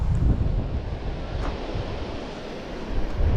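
Sea waves rolling and washing in with a steady roar, gusts of wind buffeting the microphone throughout.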